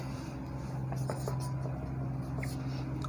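Marker or chalk scratching across a board during a Class 10 chemistry lesson on acids, bases and salts, a soft continuous writing texture over a steady low room hum, with no speech.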